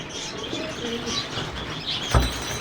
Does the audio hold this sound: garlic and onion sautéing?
no